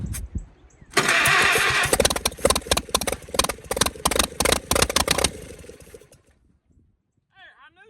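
A 1927 Chevy truck engine, its starter just repaired, cranks and catches with a loud, uneven firing clatter, runs rough for several seconds, then dies away to quiet, with a faint voice near the end.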